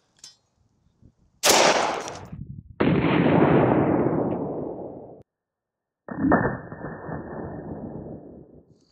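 A Colt 6940 rifle with a 16-inch barrel fires Federal M193 rounds at an AR500 armor plate. Three sharp, loud shots are spaced apart, each trailing off in a long ringing decay, with no voices.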